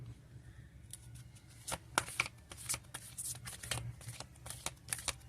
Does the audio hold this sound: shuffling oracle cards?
yes